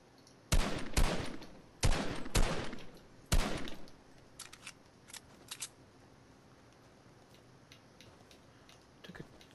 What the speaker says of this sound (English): Oh! That's a sniper. And he's sniping.